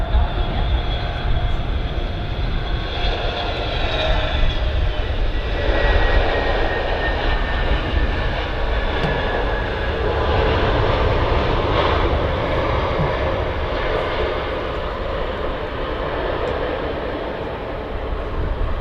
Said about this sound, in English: There you go, an EasyJet A320 from Dalaman.